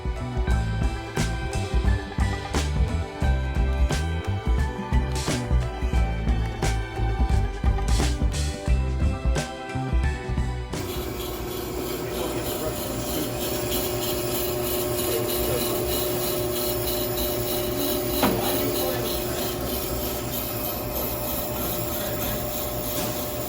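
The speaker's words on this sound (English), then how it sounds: "then you start your last cut, which will be your slow cut" A brake lathe turns a brake rotor: first a busy stretch of rhythmic machining clatter, then the final slow cut, a steady smooth whirring grind with a sustained tone that holds at an even level.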